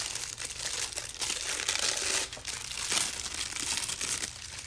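Metal foil being rubbed down onto a decorated egg, a close, continuous crinkling and scraping with uneven bursts of rustle and no talking.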